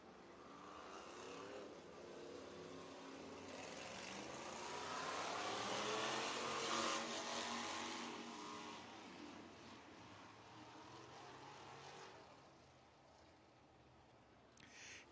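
IMCA sprint cars race a heat race around the dirt oval at Kossuth County Speedway in Algona, Iowa, at night, engines roaring and swelling as the pack passes, then receding into a distant drone.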